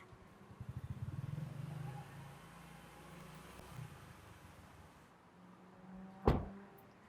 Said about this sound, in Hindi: मैं बाइक लगा के आता हूँ।